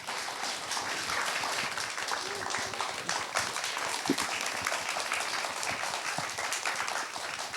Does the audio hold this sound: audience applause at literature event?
yes